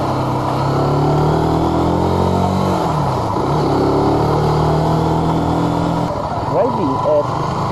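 Zontes 155U motorcycle engine droning steadily while riding at about 40 km/h, a continuous loud hum with wind noise, with a person talking over it throughout.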